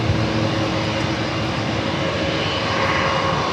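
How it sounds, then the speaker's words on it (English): An Alaska Airlines Boeing 737-800 arrives at San Diego airport with a loud, continuous engine roar. It holds steady and close throughout, with no talk. "will be Alaska Airlines Flight 1395, coming from Cabo, 737-800."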